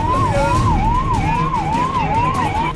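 A loud wailing ambulance siren at a gas leak emergency in Visakhapatnam, rising and falling in steady, rapid cycles over the steady roar of a busy street, with no talking.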